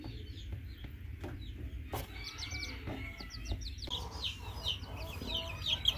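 Three young roosters cluck and chirp in short scattered calls at moderate distance, over a low rumbling background with a few soft knocks.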